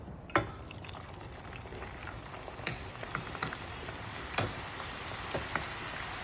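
Eggplant frying in a pan of oil, a steady low sizzle with scattered sharp pops and crackles of varying loudness throughout.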